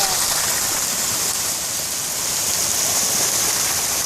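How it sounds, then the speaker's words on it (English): Rain falls at San Jose beach in Oaxaca, Mexico, a dense, even hiss that stays loud and constant throughout with no clear breaks. "it started raining now"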